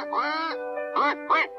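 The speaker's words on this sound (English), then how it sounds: "heard an angry quacking and went to the duck pond" Loud, harsh, angry duck quacks close by at a duck pond: one long drawn-out call followed by two shorter, sharp quacks.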